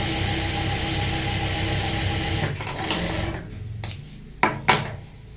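A sewing machine hums in a steady, continuous run while stitching a lace sleeve cup, then stops, followed by a few sharp clicks and taps close by.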